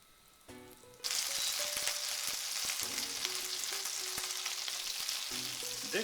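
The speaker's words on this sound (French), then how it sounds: "Dans une poêle, je mets mes 50 g de beurre à fondre." Fifty grams of butter melting in a frying pan, a dense close sizzle that bursts in after a second and stays steady and loud, with faint tonal whines and light clatters underneath.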